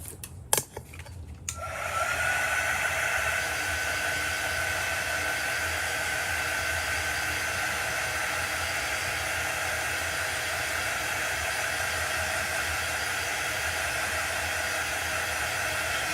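A hair dryer blows air to dry Mod Podge paste in a chalk craft project, switching on after a few clicks and then running as a steady, loud, continuous whoosh that holds unchanged throughout.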